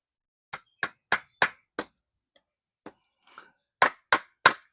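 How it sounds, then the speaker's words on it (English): Sharp hammer blows drive nails through carpet into wooden supports for a rail over a pool, coming in quick bursts of five and four strikes with a short quiet gap between them. "nailing in some carpet to keep it off the floor of the pool"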